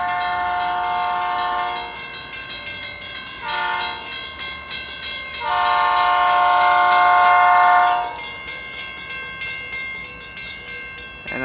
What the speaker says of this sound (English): here comes the family day train from FEC.